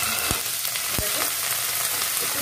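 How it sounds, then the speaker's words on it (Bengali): Dried loitta fish frying gently in hot mustard oil in a pan, a steady close hiss of sizzling with a few sharp crackles and pops. "কড়া করে ভাজবার দরকার নেই, হালকা করে একটু ভেজে নিতে হবে।"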